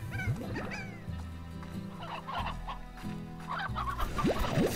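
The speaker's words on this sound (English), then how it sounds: "That is a lot of chickens." A flock of chickens in the video game Slime Rancher, with several overlapping clucks and squawks at an uneven rhythm over a steady low music bed, moderately loud and close.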